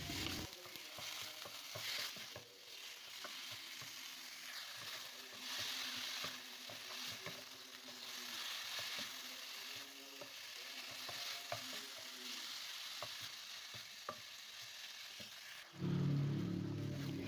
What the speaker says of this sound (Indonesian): Kita tumis lagi ya ayam dan bumbunya sampai ayamnya berair